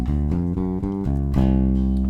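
A bass guitar plays a blues rock chromatic fill: several clear, plucked notes step in a steady rhythm, then one low note rings out and sustains, played alone up close.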